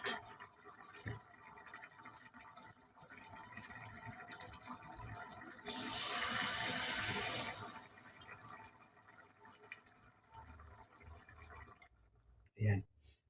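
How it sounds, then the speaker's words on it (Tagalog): Water pours into a cooking pot of tough chicken being simmered with potatoes and peas, a brief, fuller splashing burst in the middle among light clicks and kitchen clatter, with a voice talking nearby. "Dagdagan pa natin ng tubig."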